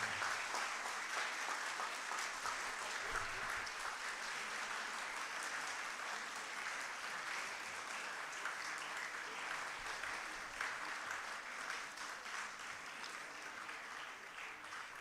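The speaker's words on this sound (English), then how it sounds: "Let's welcome him with a huge round of applause." Sustained audience applause fills a medical conference hall at Dr. S. S. Tantia Medical College, a dense, even wash of clapping hands continuing for about fifteen seconds at a steady, moderate level.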